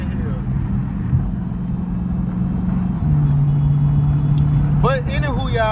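A hoodless Dodge Hellcat rumbles while driving, its engine note droning steadily and shifting pitch around a gear change, with someone talking over it and faint squeaks near the end.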